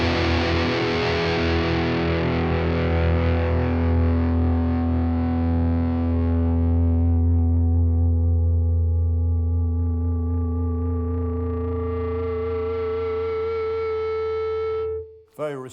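Electric guitar played through the B channel of an Albion TCT-35C amplifier, a distorted chord rung out and left to sustain, slowly decaying over about fifteen seconds with no talking.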